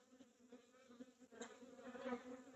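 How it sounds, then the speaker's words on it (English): Agitated honeybees drone in a continuous buzzing swarm during a hive inspection, close and steady, swelling slightly louder midway. "There's a lot of bees very, very unhappy with me right now"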